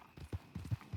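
Horse hooves in the Red Dead Redemption 2 video game, a quiet, irregular run of soft clip-clop thuds at a walking pace, fairly faint.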